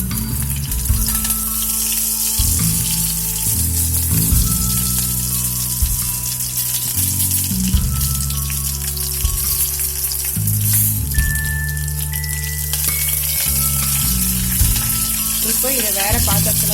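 Onion and curry leaves fry in a pan for a home-style South Indian baby potato sambar, giving a continuous sizzle beneath steady background music.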